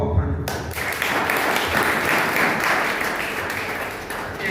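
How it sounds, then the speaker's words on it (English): Steady applause from the audience for the panel at a youth debate in Kabwe, a dense wash of clapping that starts abruptly and carries on evenly for several seconds, fairly close and loud. "A round of applause for our panel."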